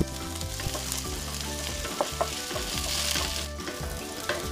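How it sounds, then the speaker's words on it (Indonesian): Garlic and ginger sauté in a little leftover oil with a continuous close sizzle and occasional stirring clinks, with no voices. "tumis bawang putih dan jahe."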